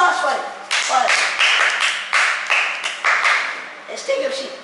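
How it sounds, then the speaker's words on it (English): Students in a classroom clap in a series of sharp, close bursts, roughly one every half second, while voices talk over them. "give a big applause for it"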